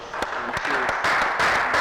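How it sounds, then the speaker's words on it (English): An audience at an engineering event applauds, a dense, continuous wash of clapping that swells toward the end, with a voice talking over it. "a big round of applause for yourselves"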